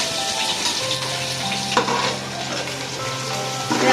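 Whole spices frying in a pan for chicken biryani, a dense steady sizzle with occasional stirring scrapes and a low hum beneath.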